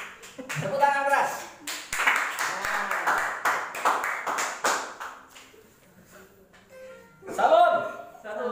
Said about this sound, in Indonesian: Tepuk tangan keras.